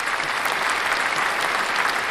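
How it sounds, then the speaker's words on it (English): Clapping fills the whole moment as a dense, even burst of many hands, loud and close, with nothing else heard beneath it. "Just give another clap for that."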